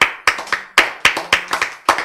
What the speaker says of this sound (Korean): 왜 박수 쳐요?